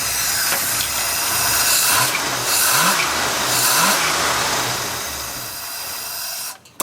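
A 1957 Chevy engine runs loud and rough nearby with a hissing roar and a few revving swells, then fades and cuts out as it stalls, leaving a brief clunk at the end.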